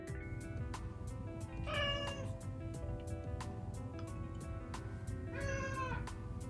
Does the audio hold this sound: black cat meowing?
yes